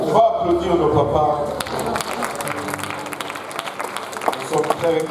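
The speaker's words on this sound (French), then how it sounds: "On va applaudir nos papas." A church congregation at a special Father's Day service applauds the fathers, scattered claps building beneath a speaking voice and background murmur, with distinct sharp claps popping out near the end.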